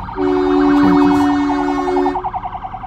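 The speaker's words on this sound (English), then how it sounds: "There's an ambulance behind me." Ambulance siren wailing behind a speaker, loud and fairly near, with a steady rising-falling tone that shifts into a faster warble before fading, no talk over it.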